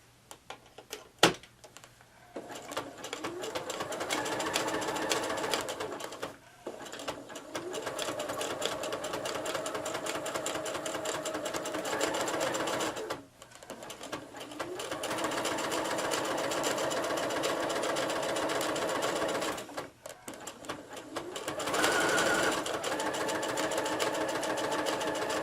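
A sewing machine doing applique lettering on a table runner hums in long steady runs of rapid stitching, pausing briefly several times before starting again, close and continuous with no talk.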